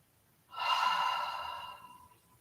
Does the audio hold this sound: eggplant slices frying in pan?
no